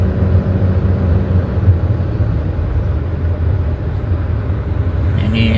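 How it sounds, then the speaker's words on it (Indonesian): A truck drives past on a road, producing a continuous loud engine rumble and tyre roar that stays close and steady throughout. "Ini truk melintas di bawah kayu ini teman-teman"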